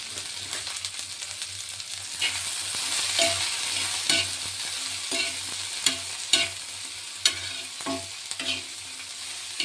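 Okra frying in a pan with a steady sizzle, punctuated by regular scraping strokes of a spatula stirring the vegetables, close and clear with no voices.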